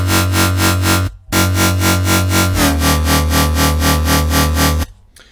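A loud, buzzy synth bass wobbles in steady rhythmic pulses with a crackly, electric edge, briefly cutting out and shifting pitch before stopping.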